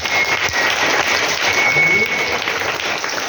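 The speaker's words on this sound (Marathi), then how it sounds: "गायकवाड सरांसाठी, विजय गायकवाडांसाठी आणि गौरांसाठी जोरजोरात टाळ्या वाजवा" Loud, dense audience applause at a children's Marathi literary gathering in a school, steady and sustained throughout.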